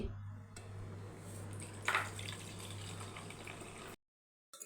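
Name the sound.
draining water off soaked rice and lentils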